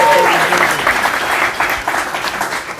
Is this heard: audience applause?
yes